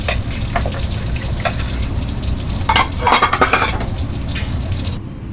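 Thin egg frying in a pan, a continuous close sizzle with scraping and stirring clinks of a utensil against the pan, ending abruptly.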